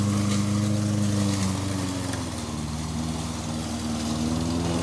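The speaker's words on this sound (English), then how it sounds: "that's some real push mowing" Push lawn mower running steadily during leaf cleanup, a loud continuous engine drone with a faint dip in pitch midway before settling back, no voices over it.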